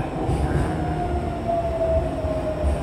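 Inside a moving Jakarta MRT metro train, a steady loud rumble fills the car with a faint high whine drifting across it.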